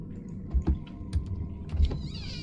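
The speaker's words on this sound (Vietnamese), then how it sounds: "xịt vào mấy cái chốt cửa là nó hết kêu liền" Door hinges in a horror video game creak briefly near the end, after a series of soft low thumps and clicks. The sound is fairly close, with no speech.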